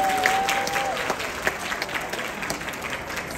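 Steady, close audience applause rings out for guests on stage at the Siam Paragon Watch & Jewelry Expo, with many hands clapping evenly throughout and a brief faint tone near the start.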